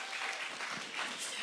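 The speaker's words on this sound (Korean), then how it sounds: "박수!" Group of people clapping in a church youth gathering after a quiz answer, steady broadband applause lasting the whole moment, close and fairly loud with no talking.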